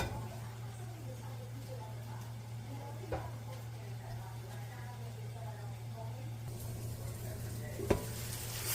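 Cabbage and onions cook quietly under a lid in a pan, a soft steady simmer and faint sizzle with a constant low hum behind it and an occasional small knock of cookware.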